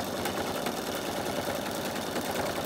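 A sewing machine running steadily for free-machine embroidery, stitching bunting onto a vintage caravan design. Its needle chatters in a fast, even rhythm, close and continuous, with no talking.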